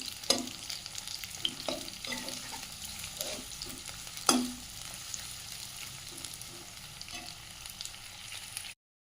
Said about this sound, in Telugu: ఆనియన్ అనేది లైట్ బ్రౌన్ వచ్చే వరకు చేంజ్ చేసుకోవాలి